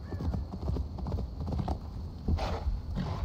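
A horse's hooves in the video game Assassin's Creed Valhalla clop in a steady rhythm at close range, with a brief neigh and other game sounds alongside, and someone talks over them.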